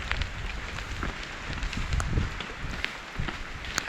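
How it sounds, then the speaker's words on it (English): Hail falls during a mountain lightning storm on a ridge between Purple Lake and Duck Lake. Scattered ticks and pattering sound over a constant rush of wind and the noise of precipitation. "And it's starting to hail now."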